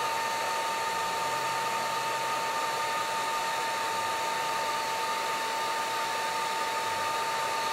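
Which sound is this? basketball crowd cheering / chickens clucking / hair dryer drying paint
hair dryer drying paint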